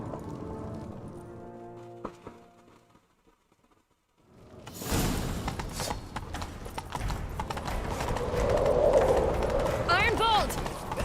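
Galloping horse in The Witcher 3 video game: rhythmic hoofbeats start after a short quiet gap and keep pounding steadily and fairly close, with game voices and effects over them.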